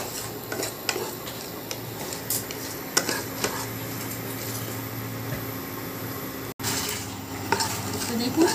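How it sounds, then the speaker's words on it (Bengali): Panch phoron spices fry in a pan as a utensil scrapes and stirs, giving a faint sizzle with intermittent metallic clinks close by, mostly without talk. "দিয়ে পাঁচফোড়নটা তো ভালো করে আমি ভেজে নেব।"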